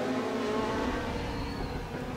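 A 2019 Audi R8 LMS GT2 race car engine in the Raceroom racing game, a steady loud droning roar holding at high revs throughout with no talk over it.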